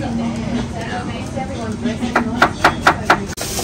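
A knife chops ingredients on a board while vegan noodles are being prepped, about six sharp, evenly spaced cuts in a quick rhythm following a stretch of talk and background kitchen noise.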